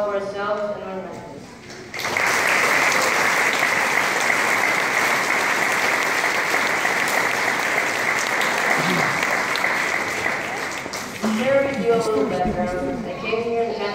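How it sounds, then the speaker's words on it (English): Graduation audience gives a long, loud round of applause for the graduates and their mentors, a dense sustained roar of clapping, with a speaker talking just before and after. "Let us give a round of applause for ourselves and our mentors."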